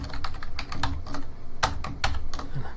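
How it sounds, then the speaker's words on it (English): Typing JSON on a computer keyboard: rapid, close, crisp key clicks in an uneven rhythm, with a few louder strikes, heard on their own without talk. "I can start typing in some JSON here."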